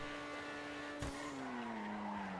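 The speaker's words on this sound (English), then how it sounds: "Sharp turn here. Hard on the brakes and just kind of carry it to the corner." A Grotti Itali GTO in GTA brakes hard into a sharp corner, a sudden skid burst giving way to a sustained tire squeal over the steady engine drone, loud and close.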